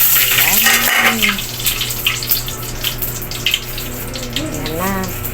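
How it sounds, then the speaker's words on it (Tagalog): A kitchen tap runs steadily into a sink while the sink and tiles are cleaned, making a continuous broad splashing rush. A voice speaks intermittently over the water. "palilinis ko lang ng lababo ng tiles"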